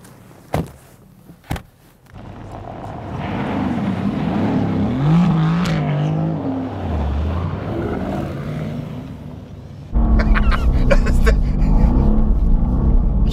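Mercedes-AMG GT S fitted with spiked tires runs on an ice track, a sustained engine drone with shifting revs that climbs louder near the end, preceded by a couple of sharp clicks.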